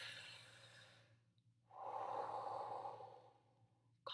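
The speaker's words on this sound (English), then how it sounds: "we can take a deep breath" A slow deep breath, a soft airy inhale followed by a longer audible exhale, close and quiet over a faint steady hum.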